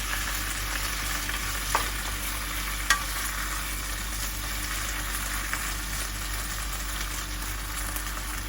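Bok choy with garlic, ginger and sauce sizzles in a hot pan, giving a continuous loud frying hiss, with a couple of brief utensil clicks from stirring.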